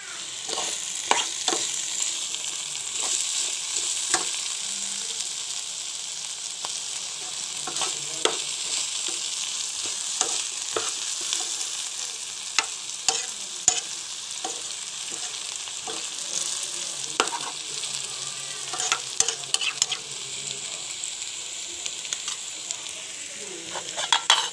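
Bottle gourd peel and baby potatoes fry in a covered pan with a steady, dense sizzle, scattered with small pops and crackles and the occasional stirring clatter. No voices are heard.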